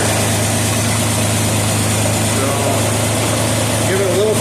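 A Ford engine paired with a C4 automatic transmission runs steadily at idle with a low, constant drone, close and loud, a slight rise near the end as throttle is added; a voice speaks briefly over it.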